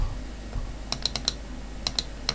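Several quick computer clicks while editing a photo in Darktable, light, sharp and close, spaced irregularly in two small bursts over a steady low background hum, with no talking.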